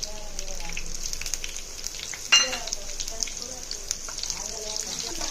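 Steady hot-oil sizzle of two green chillies frying in a pan with seasoning seeds, with a sharp clink of a utensil near the middle.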